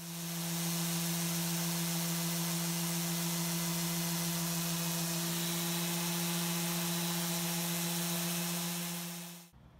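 Power sander working 80 grit paper over a wooden cutting board, a steady loud electric whine with a broad rasping hiss that runs unbroken for nearly ten seconds before cutting off.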